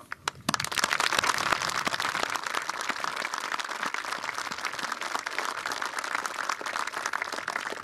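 Audience applause at an Armed Forces Day ceremony, steady dense clapping from a large crowd that starts abruptly after a brief pause and continues loud and unbroken throughout.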